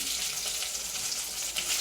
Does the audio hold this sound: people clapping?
no